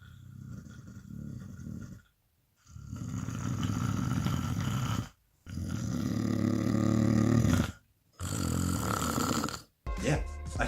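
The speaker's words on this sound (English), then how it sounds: "Yeah, I snore." Loud, rumbling snores repeat in long drawn-out breaths separated by short silent pauses, close and raspy, followed by a brief final snort.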